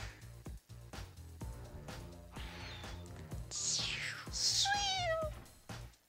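A person mimics a cat with a few rising and falling meow-like vocal sweeps, fairly close and loud, over game sounds and background noise.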